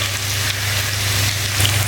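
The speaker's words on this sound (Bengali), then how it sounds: "এবার পেঁয়াজগুলো ভালো করে ফ্রাই করে নেব।" Chopped onions frying in a pan for chicken curry, a steady, close hiss and crackle of sizzling oil holding level throughout with no voices.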